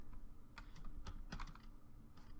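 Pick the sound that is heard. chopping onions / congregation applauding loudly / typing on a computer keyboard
typing on a computer keyboard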